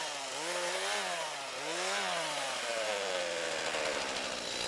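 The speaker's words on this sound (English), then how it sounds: "First, by the cutting of bigger stems with a chainsaw, and then with machinery." A chainsaw cuts through thicker bush stems while clearing land for eagle habitat, its engine revving and bogging in two strong surges, then running steadily, close and loud.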